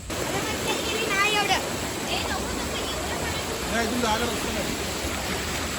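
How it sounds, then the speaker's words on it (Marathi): A monsoon waterfall in Aarey Colony sends up a steady, dense rushing roar that holds level throughout, with faint voices and a few bird-like chirps drifting over the wash. "सुंदर असा धबधबा आहे."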